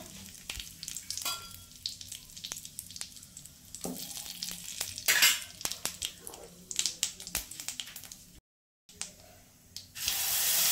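Cumin seeds and a bay leaf sizzle in hot oil, a crackling, spitting fry up close, broken by stirring scrapes, a brief silence and a louder burst of sizzle at the end.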